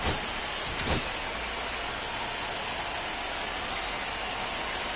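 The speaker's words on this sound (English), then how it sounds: "This rain is not letting up." Rain falling during a game in the MLB The Show 25 baseball video game, a dense, steady hiss of rainfall with a brief louder burst near the start, no voices heard.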